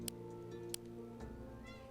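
Pet cat meowing indoors, a couple of short faint meows over a steady background of game music and hum.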